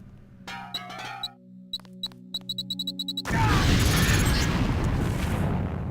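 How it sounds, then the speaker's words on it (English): A LAM grenade in the game Deus Ex drops with a series of light metallic taps and clicks, then detonates in a loud, sustained roaring blast that fills the rest of the moment. "If you aren't close enough, the lamp will fall to the ground and detonate."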